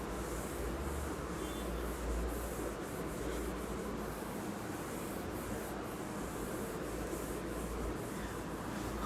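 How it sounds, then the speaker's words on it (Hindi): Steady, scratchy rubbing of an eraser wiping a classroom board clean, a constant close scrubbing sound that carries on without pause. "तो अब इरेज करते हैं, इसे मिटाते हैं"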